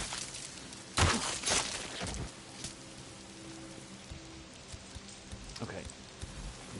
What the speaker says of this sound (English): Hopefully the rain doesn't put this out.